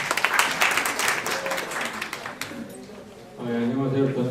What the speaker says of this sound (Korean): 대표님께 박수 한번 부탁드리겠습니다